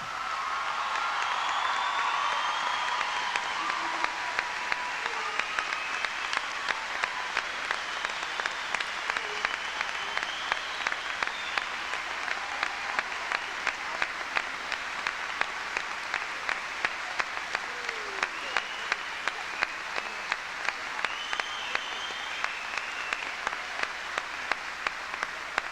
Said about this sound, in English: Please join me in giving our graduates a round of applause.